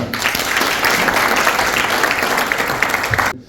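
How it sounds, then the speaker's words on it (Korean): A large audience gives a big round of applause welcoming chairman Kang Hoon as he comes up at a lecture event, dense and loud throughout, then cutting off abruptly near the end. "강훈 회장님을 큰 박수로 모시겠습니다"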